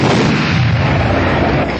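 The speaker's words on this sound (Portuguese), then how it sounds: "A cerimônia prossegue com honras militares, 3 salvas de tiros." Military gun salute volleys fired at a funeral with honors in Brazil: a loud, dense burst of rifle fire filling the clip, heard near and without talk.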